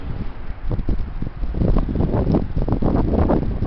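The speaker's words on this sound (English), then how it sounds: "Sure is windy out here." Strong outdoor wind buffets the microphone in continuous gusty roaring with rumbling low-end bursts, steady and loud throughout with no voices.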